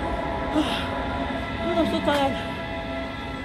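Rumble of a German passenger train, steady and close throughout, with a brief squeal or horn-like tone near the middle while a person speaks over it.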